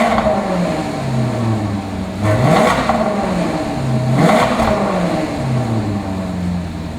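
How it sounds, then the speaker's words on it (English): A 2008 Maserati GranTurismo's engine idles and is blipped twice, each rev swelling and falling back to a steady, close, throaty idle, with no talk. "how about I fire it up for you so you can hear what it sounds like."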